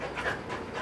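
A dog pants close by in a farm family's home, a steady run of quick breathy huffs lasting under a second with no talk.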